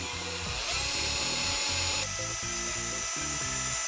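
A power drill fitted with a metal bit bores a hole for a garden fountain, whining loudly and steadily with rhythmic pulsing as the bit bites, close up and without talk.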